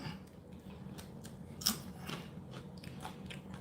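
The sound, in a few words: deseeding Aji Delight peppers, crunching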